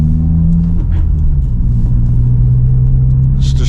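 A deep, throaty exhaust from a 2023 Subaru WRX with an AWE Track Edition exhaust rumbles loudly nearby outside, its low drone steady with slight rises in pitch as the engine revs.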